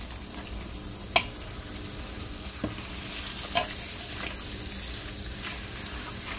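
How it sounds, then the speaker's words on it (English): Tomato paste fries and sizzles in a pan for making an onion sauce, a steady close crackle with a few sharp clinks and scrapes of the stirring spoon against the pan. "I like to fry my tomato paste so I can get rid of that bitter taste in my tomato paste."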